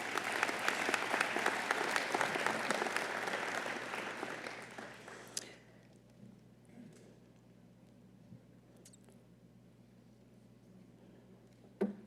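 Audience applause at a State of the City address, loud sustained clapping for about five seconds that then drops off abruptly, leaving a quiet room hum with a few scattered claps.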